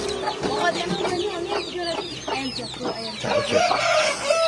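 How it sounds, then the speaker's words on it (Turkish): Large chicks of an Indonesian fighting rooster breed peep and chirp in dense, overlapping bursts close by, with a steady low hum underneath throughout. "Büyük boy civcivlerimiz var burada."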